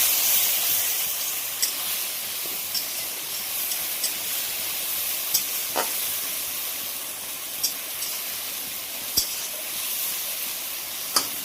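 Garlic-ginger paste sizzles steadily with softened tomato and onion in a pan, a close, even hiss broken by occasional faint taps of stirring.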